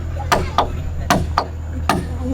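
Hammer blows ring out during a wooden house construction, five sharp close knocks in uneven pairs over a low steady hum, with no voices between them.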